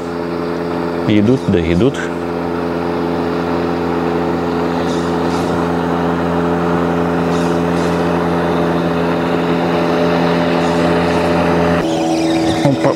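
Motorboat engines droning steadily on a river while fishing, a continuous loud hum that persists for the whole stretch, with someone speaking briefly near the start and splashing or handling noises near the end.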